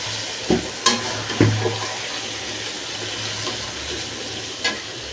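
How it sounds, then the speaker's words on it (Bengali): Duck meat curry frying in a pan while cumin powder is stirred in, a soft continuous sizzle with a few sharp scrapes and clanks of the spoon against the pan. "এখন আমি এই যে আস্তে আস্তে এই যে জিরার গুঁড়া দিয়ে দিচ্ছি, 1 চামচ জিরার গুঁড়া দিয়ে দিলাম"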